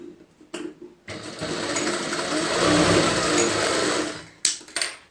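A sewing machine runs a half-inch stitch along a round front neckline seam, a rapid whirring burst of about three seconds, close and fairly loud, framed by a few short taps and handling clicks before and after.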